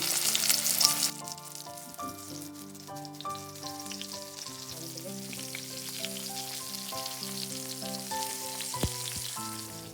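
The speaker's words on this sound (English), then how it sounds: "And I'm going to fry this on medium heat" Vegan chik parmesan fries in oil over medium heat, a continuous soft sizzle under louder background music, with no talk.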